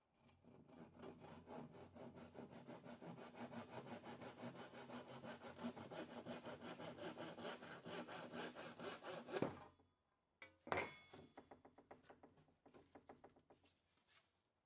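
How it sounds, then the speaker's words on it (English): Handsaw cutting off a last bit of waste wood while building a custom queen bed in an Airstream trailer: steady rhythmic rasping strokes for about nine seconds, then a pause and a few more short strokes, close and alone. "So I leave a little bit and just cut that last bit of waste off with a handsaw."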